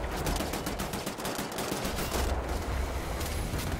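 Sustained automatic gunfire from the video game Wolfenstein, a dense and loud rattle of rapid shots running without a break, with no voices over it.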